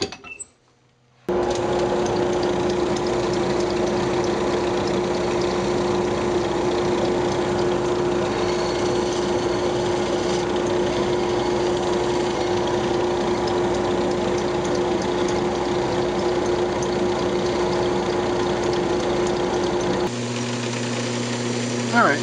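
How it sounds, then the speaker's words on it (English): Wood lathe spinning steadily with a sustained motor drone while a turned wooden Christmas ornament is sanded, the even whir loud and close, stopping abruptly near the end. "I'm just going to go ahead and sand it up."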